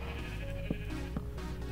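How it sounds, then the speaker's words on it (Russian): A cow lows in Minecraft, a brief blocky animal call repeated twice, fairly faint and short, over a steady tonal background hum. "Корова."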